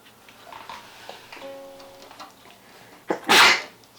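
A person sneezes once, sharply and close by, near the end, following a brief quiet stretch with a faint tonal hum and some room noise.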